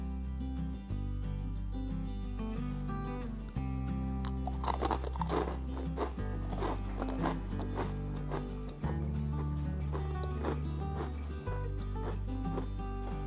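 Crunchy baked bread cubes, tossed in melted garlic butter and oven-dried at 140 degrees, are bitten and chewed up close. The crisp, repeated crunches fall in bursts over a steady music bed.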